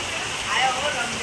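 Heavy rain pours on a rooftop in a Gujarati household, a loud, even wash of hissing patter over a short moment with no clear voices.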